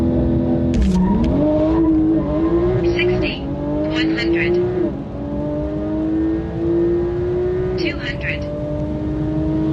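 Close, loud engine of an 1100 bhp Porsche 911 Turbo S accelerating hard through several gears, with rising pitch sweeps and shift breaks, heard during a quarter-mile run as people talk over it.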